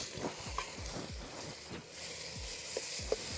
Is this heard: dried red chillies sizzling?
yes